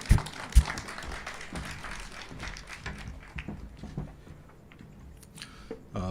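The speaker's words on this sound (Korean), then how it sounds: "우리 박수로 환영하겠습니다" Sparse applause greets a speaker at a Korean church ordination service, a few scattered claps and taps near the start, then thinning clatter and room noise with faint movement, trailing off.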